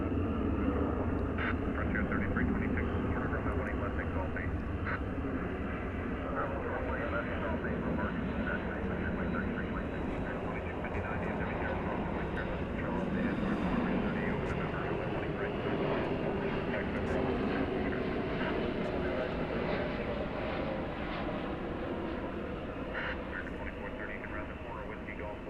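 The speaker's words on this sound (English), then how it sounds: "Here comes the big Iberia flight from Madrid." An Iberia airliner arriving from Madrid at Dallas/Fort Worth airport, its engines making a steady broad roar that holds throughout, with faint radio chatter or voices mixed in at times.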